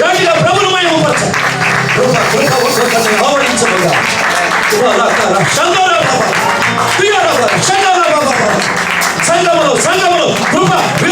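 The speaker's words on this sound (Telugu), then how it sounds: "చప్పట్లు కొడుతూ గట్టిగా ప్రభువును మహిమపరచండి" A church congregation claps steadily and continuously through a Sunday worship service in Abu Dhabi, the applause running beneath loud singing and a voice.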